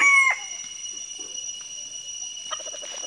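A bantam rooster kept in a backyard coop for its crow ends a loud, strained call at the start, then a quiet steady hum fills the rest with faint clucks.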